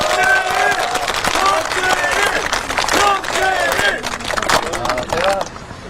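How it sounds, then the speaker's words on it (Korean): A crowd of local citizens at an outdoor political campaign rally claps, with a dense wash of applause and a loud voice speaking over a public-address system throughout. "우리 변재일 의원님께 정말 박수 한번 부탁드립니다"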